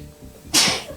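A single sharp human sneeze bursts out near the microphone after a moment of quiet room tone.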